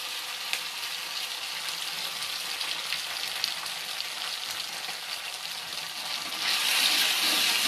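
Ginger garlic paste sizzles steadily in hot refined oil with added water, a dense continuous frying hiss that grows louder and brighter near the end, with no voices.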